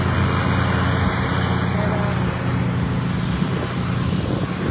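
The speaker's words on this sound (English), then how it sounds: "excuse the noise, people out here cutting the grass." A lawn mower cuts grass outdoors nearby, giving a steady, continuous engine drone with broad whirring noise. It runs at an even level throughout and no one speaks over it.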